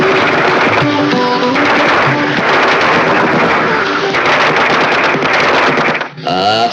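A string of firecrackers bursts in a rapid, unbroken, very loud crackling volley in a Marathi film scene, briefly overlapped by a voice before cutting off near the end.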